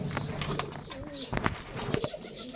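Giribaz, local and Pakistani pigeons coo in soft, repeated throaty calls near at hand, with faint rustling and a few sharper noises between the calls.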